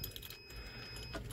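A set of keys jangles briefly and faintly in a garage, next to a car whose battery is being checked, with a low steady background hum.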